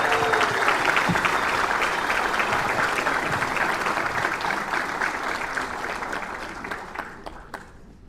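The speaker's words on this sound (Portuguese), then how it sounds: "uma salva de palmas" A crowd applauds Mr. Eudes, a Corinthians club member, at the 20th-anniversary event of the Corinthians Memorial; loud, continuous clapping from many people that slowly thins out, leaving a few scattered final claps.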